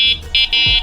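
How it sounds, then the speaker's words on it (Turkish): An electric scooter's electronic horn, on a Go Smart Pro VR500, gives three short, shrill beeps in quick succession, close and loud. "bugüne kadar bu scooter hariç başka hiçbir scooterda görmediğim elektronik korna"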